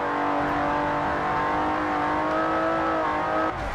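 A six-cylinder race car in Forza Motorsport 4 accelerates hard, its loud, close engine holding a rising whine throughout with no pause.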